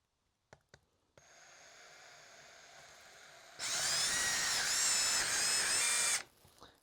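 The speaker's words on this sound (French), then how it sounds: "Donc je vais prendre un forêt de 6 pour tout juste pour essayer d'abord." A power drill with a 6 mm bit spins up with a few clicks, whines steadily at low load, then grows louder and harsher as it bites into wood for a few seconds before stopping.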